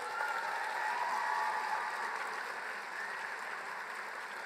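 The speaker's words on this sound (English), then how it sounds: "Let's give them all a round of applause." A large audience at a law school commencement ceremony applauds in a sustained, even roar of clapping that stays steady and moderately distant throughout.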